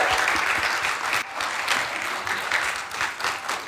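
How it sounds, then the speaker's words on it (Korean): A church young adults' Sunday service congregation applauds to welcome a new pastor to the front, a dense, sustained burst of clapping from a sizable crowd that carries steadily throughout. "박수로 환영해 주세요."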